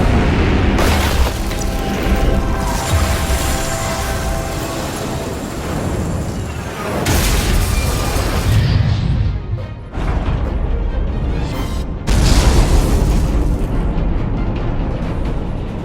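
In the Star Trek Resurgence game, a starship fires a weapons salvo, a series of loud booms and crashing blasts that come in several heavy waves with brief gaps between them.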